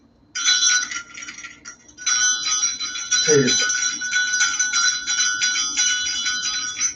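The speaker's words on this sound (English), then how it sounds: "I carry bear bells, many different kinds." Bear bells jingle in a steady, continuous bright ringing, loud and close, with a brief pause early on and a few words spoken over them.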